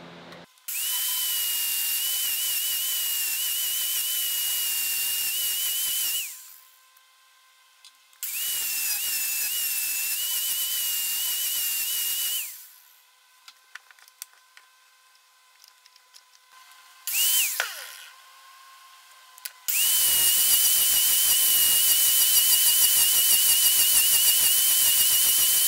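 A grinder shapes the bevel on a knife blade with a high, steady whine that runs in three long passes separated by quieter gaps of handling clatter, the final pass continuing to the end.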